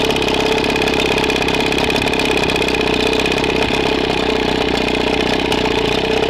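Outboard engine on an Alumacraft V-hull aluminum bass boat runs steadily at idle and low throttle while shifting through its gears, a continuous close mechanical drone with no talk.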